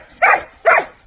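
A dog barks twice in quick succession during correction training on a walk, two loud, close, sharp barks with a short gap between them, no voices.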